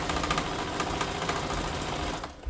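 A sewing machine back stitches through thick layers of fleece on a fabric basket, a close, rapid mechanical chatter running steadily before winding down.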